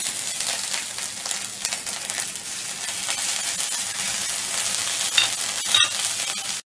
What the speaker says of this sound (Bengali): আর একটু শুকনো লঙ্কা ভেজে নিচ্ছি।